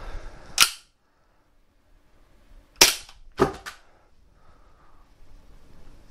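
A KWC Desert Eagle .50 gas blowback airsoft pistol fires three sharp, loud cracks close by, one shot then a pause and two quick shots, with quiet handling noise and breathing between.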